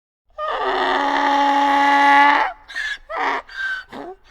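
A donkey brays loudly and close, one long harsh drawn-out note followed by several shorter choppy gasping calls, with nothing else heard.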